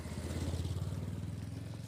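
A motorcycle passes along a rural road near Quillabamba. Its engine makes a steady, fast-pulsing putter at moderate volume, with no talk over it.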